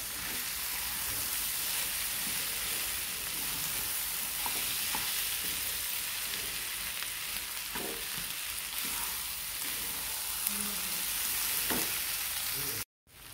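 Boiled potatoes being stirred into a cooked masala paste in a pan for potato dosa filling, a steady frying sizzle with soft scraping stirs throughout, close and fairly loud, ending abruptly.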